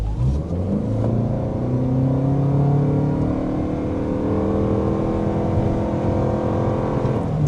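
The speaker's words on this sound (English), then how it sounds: "first we need to show you a hard acceleration." A 2026 Toyota RAV4 hybrid accelerates hard, its steady engine and motor whine climbing in pitch through the run, heard from inside the cabin with constant road roar underneath.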